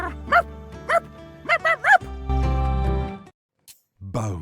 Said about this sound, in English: Merp growls in the direction of the dead Onks carcasses from earlier.